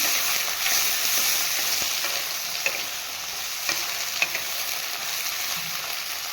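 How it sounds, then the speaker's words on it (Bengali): Masala sizzling and frying in a hot pan while being stirred, a steady loud hiss with occasional scrapes of the spatula, close up, no talking. "মশলা দিয়ে করে নেব ভালো করে লাল করে তাদেরকে মিক্স করলাম"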